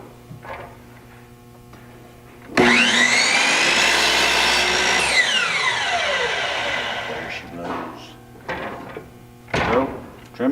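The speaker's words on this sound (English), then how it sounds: "now we come over to the chop saw, and the very first thing we're going to do is trim an end on all of our pieces" A chop saw spins up and bites through a wooden frame stile to trim its end, a loud sustained whine that winds down as the blade slows, with knocks and handling noises before and after.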